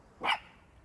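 A single dog's bark rings out clearly during a walk through the woods, one short loud burst followed by quiet.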